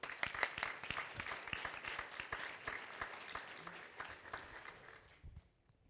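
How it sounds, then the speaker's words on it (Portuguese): A conference audience applauds a guest called to the stage, with crisp individual claps standing out from a dense, fairly close wash that thins and fades out in the last moments. "por favor, uma salva de palmas"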